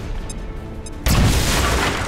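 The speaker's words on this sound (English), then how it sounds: "Explosion." In XCOM 2, a loud explosion bursts suddenly about halfway through, a sharp booming blast that decays into a broad, rumbling roar after a quieter stretch with faint electronic chirps.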